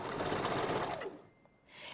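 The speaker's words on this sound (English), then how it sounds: "Always want to backstitch." A sewing machine runs steadily while backstitching a hair bundle for a wig with Spanish wave bundles, a close, dense whir for about a second before it stops and only faint room noise remains.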